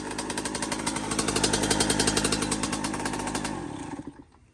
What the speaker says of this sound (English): She's back running in two-stroke, so hopefully all you two-stroke guys are happy to see this.